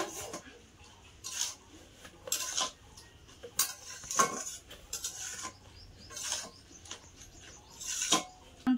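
Metal spoon scraping and clinking against a pot of bottle gourd curry with prawns and egg, with lid clanks as the pot is covered and uncovered, in sharp intermittent bursts over a quiet background.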